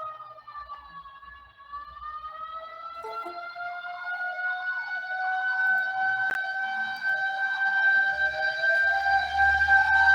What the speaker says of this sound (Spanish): Creo que está pasando una ambulancia.